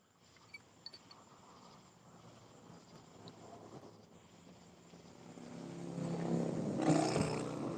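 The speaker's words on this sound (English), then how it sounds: "I'm hearing thunder now" Distant thunder rolls in as a low, building rumble that swells toward the end, heard outdoors near the water with faint background noise.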